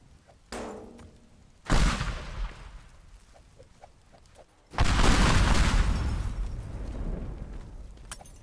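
Two big explosions go off in the destruction game Teardown when nitroglycerin tanks detonate: a first heavy boom, then a second larger blast that rumbles on with debris noise for several seconds.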